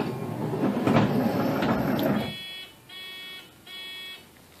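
Power sliding door on a 1999–2004 Honda Odyssey closing with a mechanical whir, then a series of three clear electronic warning beeps at a steady pulse, close and fairly loud.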